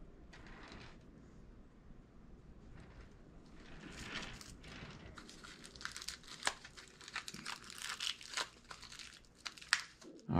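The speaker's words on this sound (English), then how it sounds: "so I'm going to use aluminum foil" Aluminum foil is crumpled up close to form a core for a clay horse sculpture, a quiet crinkling that builds into denser, louder crackles and crunches over several seconds.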